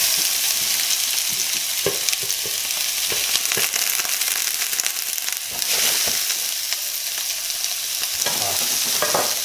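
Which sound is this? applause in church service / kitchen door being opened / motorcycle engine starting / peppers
peppers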